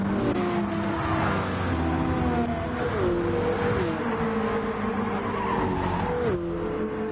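Gran Turismo 7 race cars, among them a Subaru, BMWs and a Mercedes, drone steadily on engine note with shifting pitch and occasional tire squeal, loud and continuous throughout.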